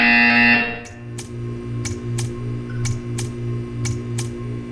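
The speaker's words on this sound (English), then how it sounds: "When you hear the buzzer, stare at the art." A harsh, loud buzzer blares briefly in the Portal 2 video game, then gives way to a steady electronic hum punctuated by regular sharp ticks.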